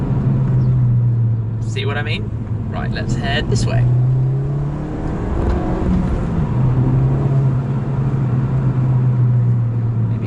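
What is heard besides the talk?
exhaust of Mountune MR265 Ford Fiesta ST accelerating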